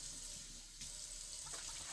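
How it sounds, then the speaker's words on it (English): Warm water runs from a tap into a plugged sink drain in a steady, close hiss with a slight surge partway through; no voices. "We'll get some more warm water going on."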